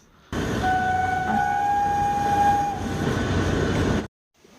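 Kalka to Shimla toy train running close by, a steady loud rumble of wheels and carriages with a long sustained horn blast over it, cutting off abruptly near the end.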